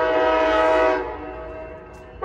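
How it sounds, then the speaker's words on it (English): Amtrak San Joaquin train arriving at Oakland Jack London Square station sounds a loud, sustained multi-tone horn that cuts off after about a second, leaving a quieter rumble before a brief renewed blast at the end. "this is Amtrak 7-Eleven making a final stop at the Oakland Jack London Square"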